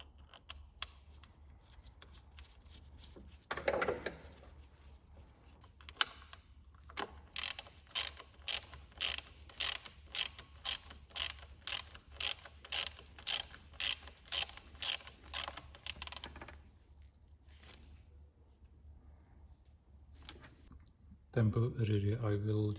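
A ratchet wrench reinstalls a cleaned bolt coated with thread locker on a BMW, giving a long run of rapid, evenly spaced close clicks in the middle, with a few scattered mechanical clunks before and a burst of noise at the end.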